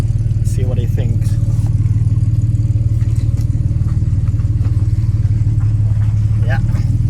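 Lifted off-road Ford AU Falcon with its engine running steadily nearby, a constant loud low rumble with slight revving and clatter throughout, while people talk faintly in the background.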